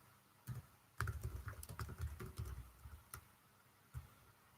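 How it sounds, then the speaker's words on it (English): Someone types on a computer keyboard, a close, quiet run of irregular key clicks with a short pause, then a few isolated taps. "I'm gonna type her name in the chat."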